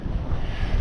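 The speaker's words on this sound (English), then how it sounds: "and then the wind picked up, as it was forecast to do." Strong wind buffets the microphone aboard a sailboat on the Solent, a steady, loud, broadband roar mixed with water rushing past the hull, continuous for under a second with no voices.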